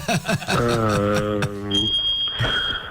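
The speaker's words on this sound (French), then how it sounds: "C'est l'alarme qui s'est déclenchée parce qu'il... c'est l'alarme incendie" A fire alarm goes off in a radio studio, sounding a high, steady electronic tone that holds on while voices talk over it.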